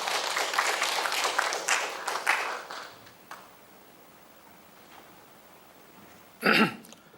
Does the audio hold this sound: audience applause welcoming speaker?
yes